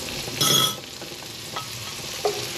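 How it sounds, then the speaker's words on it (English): Scallops fry in a pan aboard a sailing boat, a brief close sizzle with a sharp scrape near the start and a couple of light utensil clicks. "Just gonna fry these off and then I'll put the garlic in."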